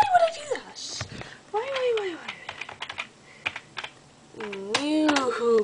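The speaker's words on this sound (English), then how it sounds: "Type in that password." Computer keyboard keys are tapped in short bursts while a voice talks over much of the typing.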